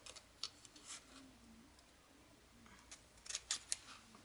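Scissors cutting paper at an angle for a pocket-page brag book: faint, close snips and small ticking clicks, sparse at first and then a quick cluster of sharper snips near the end, over a quiet room.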